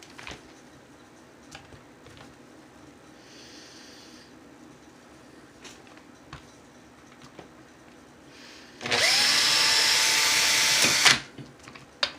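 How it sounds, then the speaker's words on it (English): A small power drill spins steadily for about two seconds to straighten 24 gauge wire for a coil build, loud and whining, after a long stretch of quiet handling clicks and rustles. "I'm going to have to get my drill."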